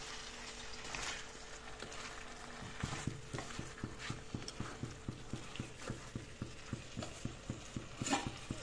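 A utensil stirs chicken curry with ginger garlic paste in a pan, giving a steady sizzling hiss broken by regular, rhythmic scraping strokes that grow more frequent midway through, close up and with no voices.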